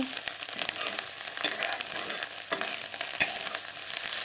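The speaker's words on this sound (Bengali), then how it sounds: "ডিমগুলোকে লাল করে ভেজে নিয়েছি" Fish roe frying in oil in a pan until reddened, giving a dense, continuous crackling sizzle with a few light spatula touches and one sharp click near the end.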